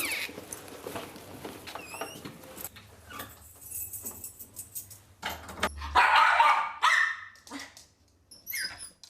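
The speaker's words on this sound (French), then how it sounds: "chaque fois qu'il se retrouve seul, Nounours aboie sans s'arrêter." A dog left alone at home barks repeatedly in irregular bursts, some sharp and loud, others shorter yips, with quieter gaps between them and no one speaking.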